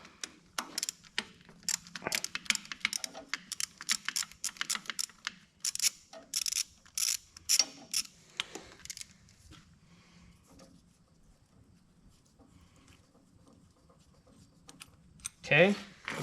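Ratchet and tool clicks taking screws and bolts off a Farmall 300 tractor: bursts of quick metallic ticking and clatter up close, fading to quieter handling, with a sharp clink near the end.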